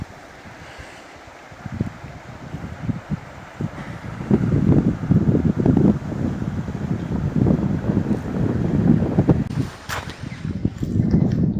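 Strong wind roars and buffets the microphone in heavy low gusts while fishing outdoors in cold weather, growing louder after a quieter opening, with water sloshing faintly beneath.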